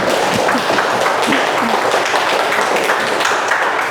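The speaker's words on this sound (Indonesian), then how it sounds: "jadi tepuk tangan dulu buat Fahri" A classroom full of students clapping together, a steady wash of applause lasting several seconds with a few voices faintly mixed in.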